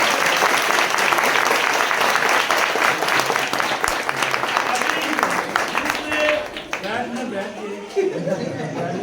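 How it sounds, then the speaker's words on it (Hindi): Loud applause from a crowd at a midnight church service, thick continuous clapping that thins out toward the end as voices chatter nearby. "जोरदार तालियां"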